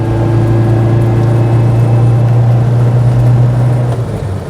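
Wooden Hustler 6 six-wheeler car driving, a loud steady engine drone with a strong low hum and constant road rumble throughout, easing slightly near the end.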